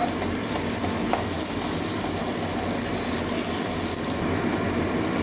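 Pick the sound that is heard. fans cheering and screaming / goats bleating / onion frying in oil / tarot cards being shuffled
onion frying in oil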